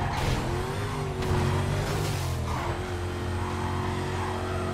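In the Need for Speed Carbon Redux video game, a car slides sideways with a long tire squeal over a loud, steady engine roar, close and continuous, with no voices.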